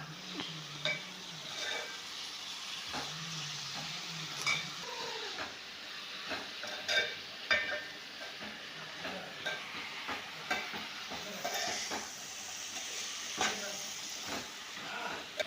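Chicken is stirred and fried in a pan, a continuous sizzle and hiss broken by scraping stirs and the odd clink of a utensil against the pot, with voices talking faintly in the background.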